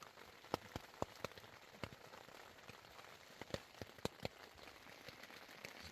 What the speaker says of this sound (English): It's kind of raining right now.